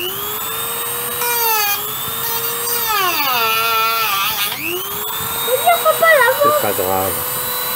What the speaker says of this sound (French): Je vais découper la planche pour le toit.